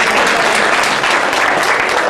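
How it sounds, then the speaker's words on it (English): Dense, steady applause from an audience at a university science demonstration lecture, many hands clapping together close and loud with no pauses. "so give them all a round of applause"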